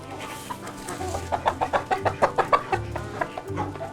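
A hen clucks close by in a rapid run of sharp, rhythmic clucks that rise to a burst and then trail off, with farmyard background and no talking.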